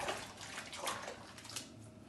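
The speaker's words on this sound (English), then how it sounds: "Don't forget to wash your hands." A kitchen water tap runs in a steady splashing stream while hands are washed, close and moderately quiet.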